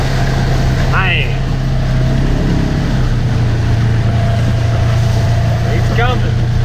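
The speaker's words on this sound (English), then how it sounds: "Let's see what he done with this skidder." A logging skidder churns through deep mud on a farm, its engine a loud, steady low drone throughout, with wind noise across the microphone and brief voices in the background.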